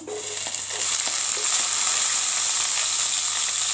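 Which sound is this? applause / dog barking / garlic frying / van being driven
garlic frying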